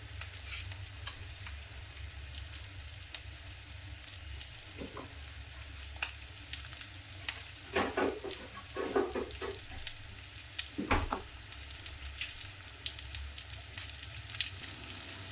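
Country chicken curry base frying in a pan over high flame, a steady sizzle running throughout with a few brief stirring scrapes and clatters partway through; no one speaks.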